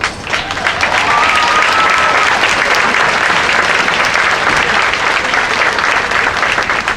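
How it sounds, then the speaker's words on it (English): Loud, sustained applause from a large outdoor crowd at the Tanforan memorial ribbon cutting ceremony in San Bruno, California, dense and unbroken for several seconds, with a faint whistle or cheer rising briefly early on. "Give yourselves a round of applause."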